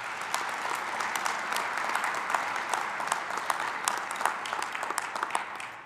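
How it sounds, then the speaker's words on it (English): Audience applause at a Glen Oaks Community College graduation, a dense round of many hands clapping in a large room, steady and fairly close for several seconds, with no talking over it. "I think we should give her a round of applause as last year's recipient"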